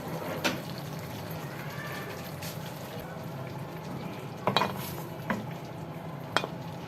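Chicken white karahi being served out of the pan after the flame is turned off: a few sharp spoon-against-pan clinks and scrapes, spaced apart, over a low steady kitchen hiss, with no talking.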